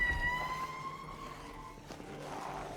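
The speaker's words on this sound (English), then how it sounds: "Hi there, ambulance. If you guys could hear it." Ambulance siren in the Project Zomboid video game, a steady wailing tone with a couple of held pitches fading slightly over a low rumble, moderately loud and heard alone without talk.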